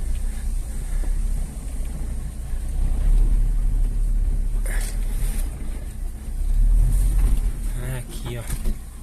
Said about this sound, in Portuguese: Esse carro tá patinando, cara, no mato verde.